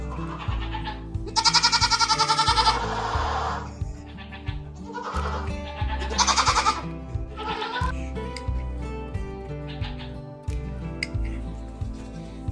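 Goats bleat repeatedly during hoof trimming on a farm, loud and close, with several long wavering calls coming in bursts over a low steady background and faint voices.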